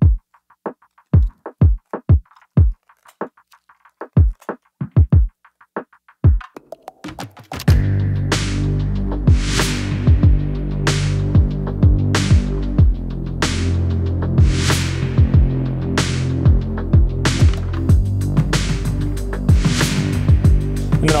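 A vacuum pump draws down a vacuum bag for bending wood in a woodworking shop, starting with a series of sharp clicks and then settling into a loud, steady throbbing hum that runs continuously up close.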